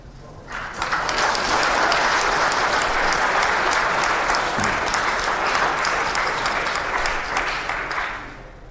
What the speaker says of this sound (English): you're applauding someone asking me if I'm a racist?